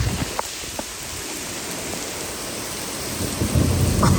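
Heavy rain pours down steadily outdoors beneath a tree, a continuous dense hiss with low thunder rumbling through it and growing louder toward the end.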